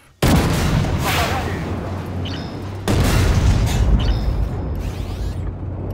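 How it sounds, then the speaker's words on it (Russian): Two 125 mm tank cannon shots in a tank combat video game: each is a loud, sudden boom that rolls into a long, heavy rumbling tail, the second following about three seconds after the first. "громкий и смачный такой выстрел 125-миллиметровой пушки"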